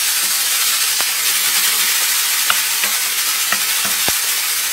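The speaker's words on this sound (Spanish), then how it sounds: "vamos a menear muy bien esto. Hasta que se cocinen muy bien nuestros vegetales." Vegetables for a frittata stirred in a hot pan, a loud continuous frying hiss with scattered spatula scrapes and taps, close and with no voices.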